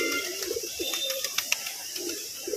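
Pigeons cooing on a rooftop where birds are kept, soft low murmuring coos repeating at a moderate distance, with faint higher chirps and light background noise.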